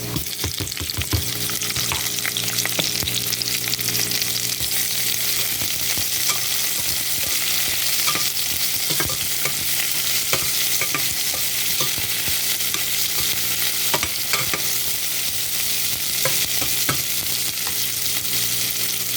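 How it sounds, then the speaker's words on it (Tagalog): Onions sautéing in a pan with browned garlic for chicken tinola, a steady loud sizzle with scattered clicks of stirring, and no talk. "Next, ilagay na natin yung ating sibuyas."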